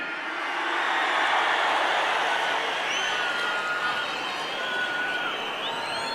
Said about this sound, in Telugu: అవును అంటే గట్టిగా చప్పట్లు కొట్టి చెప్పండి అవునని